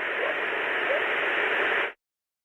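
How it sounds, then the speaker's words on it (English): Steady, loud hiss of broadband white noise, even and unchanging for about two seconds before cutting off abruptly into silence. "the white noise is going to be covering that up"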